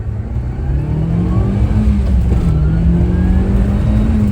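A Nissan S-Cargo with a 4-cylinder engine pulls steadily under boost, its engine note rising through a gear, dipping at a shift and climbing again, heard loud and close from inside the cabin.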